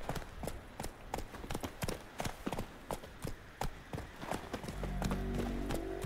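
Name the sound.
horse hooves galloping in video game The Witcher 3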